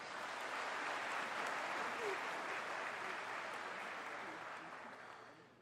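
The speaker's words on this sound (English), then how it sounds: "Let's give them a round of applause, please." Sustained applause from the audience at a college graduation ceremony, steady and full for several seconds before tapering off slightly at the end.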